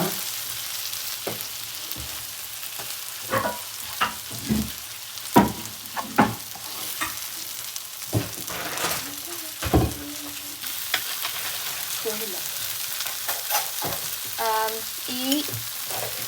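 Shredded chicken filling for chicken puffs is stirred into masala in a pan, with a low steady sizzle under repeated scraping and stirring strokes of a spatula, close and moderately loud, no talking.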